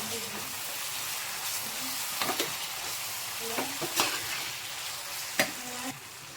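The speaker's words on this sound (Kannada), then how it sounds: "ಈಗ ಸ್ವಲ್ಪ ಶುಂಠಿ ಬೆಳ್ಳುಳ್ಳಿ ಪೇಸ್ಟನ್ನು ಹಾಕ್ಕೊಳ್ಳೋಣ. 1-2 ಟೇಬಲ್ ಸ್ಪೂನ್ ಅಷ್ಟಿದೆ. ಚೆನ್ನಾಗಿ ಹಸಿ ವಾಸನೆ ಹೋಗೋವರೆಗೂ ಫ್ರೈ ಮಾಡ್ಕೊಳ್ಳಿ." One to two tablespoons of ginger garlic paste fry in a pan with a constant close sizzle, broken by several scraping stirs of a spoon, no talking.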